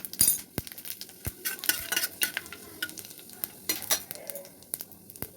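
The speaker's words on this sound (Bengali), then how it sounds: "তেল গরম হয়ে গেছে, এখানে আমি শুকনো লঙ্কা দিয়ে দেবো" Dried red chilies and whole spices crackle in hot oil for a tempering, with sharp spoon scrapes and clinks against the pan punctuating a light sizzle throughout.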